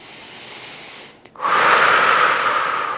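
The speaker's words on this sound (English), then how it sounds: "Take an inhale, take an exhale." A person doing a yoga exercise takes a soft, quiet breath in, pauses briefly, then lets out a long, loud, airy exhale close to the microphone.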